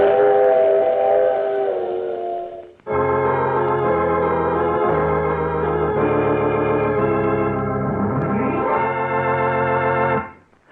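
A train sound effect in an old radio drama: a steam-style whistle chord blares loudly, breaks, then sounds again in a long sustained blast with a sliding, bending tone near the end before cutting off.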